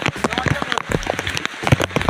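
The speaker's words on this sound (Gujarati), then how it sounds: "આયો જો વરસાદ આવ્યો" Rain falls on a mountain trail on Girnar near Junagadh, a dense patter of close drops striking surfaces, with people talking over it.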